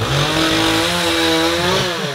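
A chainsaw runs at a steady high-revving whine for about two seconds, close and loud, with no voices over it.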